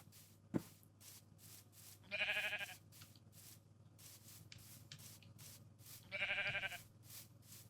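Sheep in the Minecraft video game let out two short, bright bleats a few seconds apart over a steady low background hum, with a sharp click before the first.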